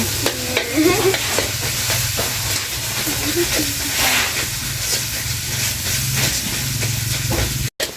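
Shrimp paste (kapi) frying in a pan for Thai khanom jin curry, a steady broadband sizzle and hiss with stirring scrapes, while a low hum runs beneath and voices murmur faintly in the background.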